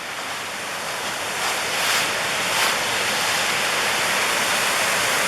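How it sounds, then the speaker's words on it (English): Water pouring over a small dam spillway in a recreation area, a steady broadband rushing roar heard alone, slightly swelling in the middle and holding constant. "There's a little dam with a spillway"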